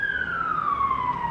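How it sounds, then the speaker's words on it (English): An emergency vehicle siren wails in a smooth, slowly falling tone, fairly faint and distant over low background hum. "sirens,"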